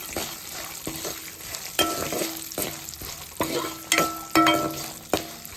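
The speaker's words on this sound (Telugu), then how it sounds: "ఒక టీ స్పూన్ పసుపు కూడా వేసుకొని కలుపుకోవాలి." Turmeric is stirred into mango pulihora in an oiled pan with curry leaves: a brisk series of repeated scraping and clinking strokes against the pan over a low frying hiss.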